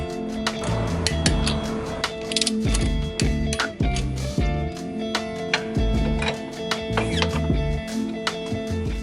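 A wrench tightens Muteki lug nuts on a 2018 Subaru WRX, with rapid repeated metallic clicks and clinks in a steady ratcheting rhythm, close and fairly loud.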